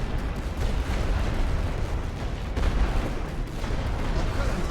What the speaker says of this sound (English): so we'll hit them with artillery as well